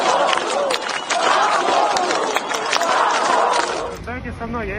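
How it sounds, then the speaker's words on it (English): A large protest crowd in Moscow chants for Alexei Navalny amid police with batons, a loud rhythmic roar of many voices repeating in waves before cutting to a different sound at the end. "Some were forced back by protesters as they chanted, "Freedom for Alexei Navalny.""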